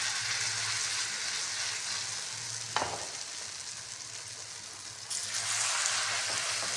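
Besan and methi tikki frying in hot ghee, a steady close sizzle with a brief scrape of a spoon midway and a louder burst of crackling near the end.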